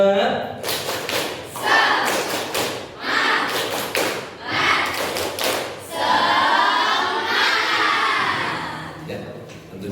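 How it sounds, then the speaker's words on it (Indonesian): Schoolchildren in a classroom perform a rhythmic spirit clap, with sharp groups of clapping in a set pattern, followed by the children chanting together. "tepuk semangat."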